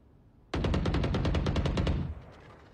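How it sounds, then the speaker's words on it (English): A rapid burst of automatic gunfire in a video game, about a dozen evenly spaced loud shots over roughly a second and a half, then a fading echo. "They're shooting something."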